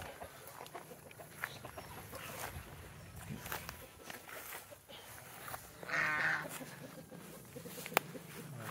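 Goats feeding in a backyard, with one short bleating call standing out midway over a low, steady outdoor background of scattered farm-animal noises.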